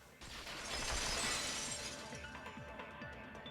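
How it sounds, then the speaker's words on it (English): Glass window shattering in the Danganronpa 2 video game, a loud burst of breaking glass followed by scattered tinkling shards settling, alone without talk. "heard the sound of the window shattering"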